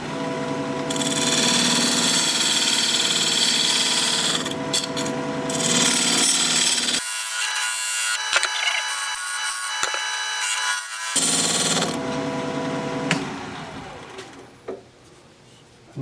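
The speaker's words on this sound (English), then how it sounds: "Now I'm going to use this diamond point tool to square up the sides of the tenon." A diamond point tool squaring the sides of a wood tenon on a lathe, a continuous harsh scraping whir from the spinning wood, broken by a brief lower-pitched lull before the cutting resumes and tapers off.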